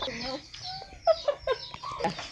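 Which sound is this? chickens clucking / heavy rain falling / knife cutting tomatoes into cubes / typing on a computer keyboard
chickens clucking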